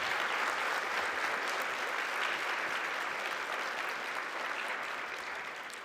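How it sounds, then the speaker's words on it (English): A large conference audience at a social work education meeting gives a sustained round of applause, dense and loud from the start, holding steady before easing slightly toward the end, with no speech on top. "they deserve a round of applause"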